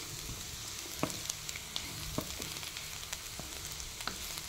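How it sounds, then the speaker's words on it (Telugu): Dry grated coconut and ivy gourd frying in a pan, a steady soft sizzle with occasional sharp pops and stirring clicks, close and alone. "ఇది కొంచెం వేగడానికి టైం పడుతుంది"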